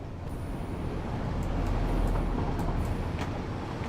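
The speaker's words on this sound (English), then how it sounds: "train." A Satisfactory video-game train rumbles past as a low, steady roar that swells toward the middle and eases off slightly, with a few faint high clanks riding on top.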